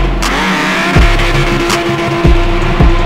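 A Ferrari Testarossa engine idling and revving inside an echoing hangar, loud and close, with a deep rumble broken by three sharp throttle blips that ring off the walls.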